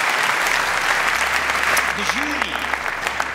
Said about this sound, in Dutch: Een applaus voor Achmea.